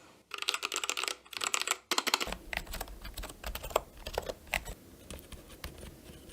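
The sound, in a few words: typing on a mechanical keyboard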